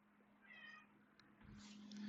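A pet cat meowing indoors, a short faint meow followed by a brief rising cry, quiet against a steady low hum.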